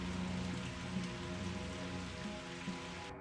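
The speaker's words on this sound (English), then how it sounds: "It's good to have rain." Steady rain falls across surfaces in Pathologic 2, a dense, even patter with soft drops and no breaks, holding at a constant moderate level throughout with no voices.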